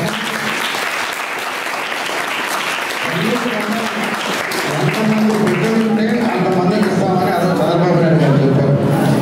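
Loud applause from an audience at a student merit awards event, steady clapping throughout with a voice speaking over it and rising in the later seconds.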